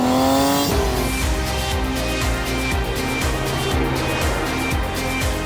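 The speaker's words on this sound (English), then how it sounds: "Driving a sports car." A Porsche Macan sports car, a five-door all-wheel-drive model, drives past steadily with a loud engine note and tyre noise, set against a continuous musical backing.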